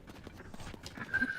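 Horse in the video game The Legend of Zelda: Tears of the Kingdom, faint hoof clip-clops and a soft snort amid quiet game ambience, with a brief tonal chime near the end.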